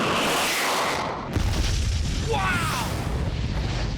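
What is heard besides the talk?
compact rocket sled firing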